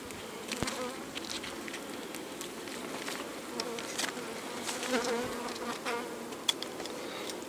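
A dense, steady hum of many honey bees buzzing up close at a log hive, with scattered soft taps and crackles mixed into the continuous drone and no voices.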